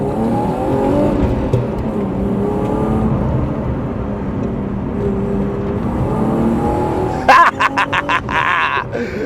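A BMW 325i E36 with a short-shift swap, about 200 horsepower, pulls under acceleration with a steady, rising engine drone heard from inside the car, then a few sharp clacks near the end.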